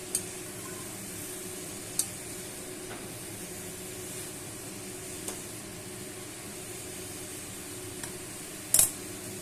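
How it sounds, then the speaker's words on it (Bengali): Cabbage curry being stirred in a pan, giving a low, steady simmering hiss with a few sharp clinks of a spoon against the pan, and a louder scrape near the end. "আর ভালো করে নাড়াচাড়া করে দিতে হবে।"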